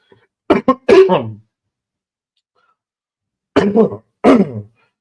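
A person coughs in two close bursts, then after a pause coughs twice more, loud and near, with silence in between.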